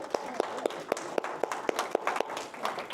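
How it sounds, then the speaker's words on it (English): A small audience at a local history presentation gives a brief, faint round of applause, a few hands clapping in a steady, sparse rhythm of distinct claps with no voices over it. "So a round of applause for our friends."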